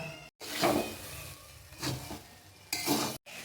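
Fried rice is stirred and tossed in a pan at a home picnic, with three bursts of spatula scraping, light clinks and faint sizzle, separated by brief quiet gaps.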